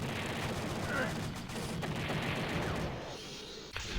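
Rapid gunfire rattles through Maximum Force, a 1997 Atari Games arcade rail shooter, with dense overlapping shots and explosive bursts running for several seconds before easing off.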